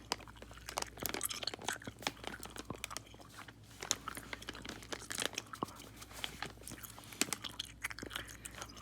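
Close, wet gum chewing continues steadily, with sticky smacks and clicks and occasional crinkling of blind-box packaging mixed in, quiet and intimate with no speech.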